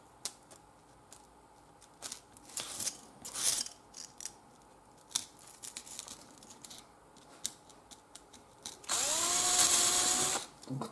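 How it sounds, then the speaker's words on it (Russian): A spade drill bit bores through wood, heard as a loud whirring burst near the end after scattered handling knocks and clicks. "Ну, первое я просто перьевым сверлом."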